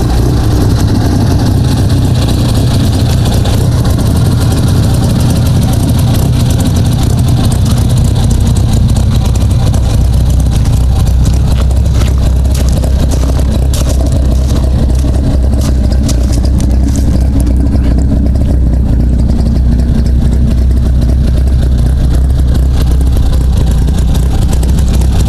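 A muddy rally car at the RAC Rally of the Tests idles steadily with a deep, heavy engine rumble, loud and close, holding a constant low throb for the whole stretch with no talk.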